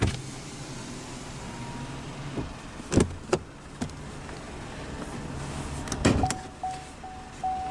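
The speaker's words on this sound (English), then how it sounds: "now we'll roll down the driver's window" Driver's power window on a 2022 Chevrolet Silverado 1500 WT crew cab with the 2.7-liter turbo, heard over a quiet idle, with a few sharp clicks and thumps and a faint electric motor whine near the end.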